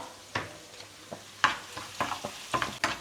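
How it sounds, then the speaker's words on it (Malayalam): Onions stirred in a hot pan while cooking for an okra thoran, a steady low sizzle broken by a series of sharp scraping clinks from the spoon, close and moderately loud with no talking. "ഒന്ന് വഴണ്ട് വരുന്നത് വരെ നമുക്കൊന്ന് ഇളക്കി കൊടുക്കാം"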